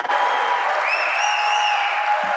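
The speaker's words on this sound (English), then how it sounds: "thank you for the warm applause you've showered on" Audience applause fills a large political conference hall in Toronto, Canada. Steady, dense clapping from many hands carries loudly and continuously with no break.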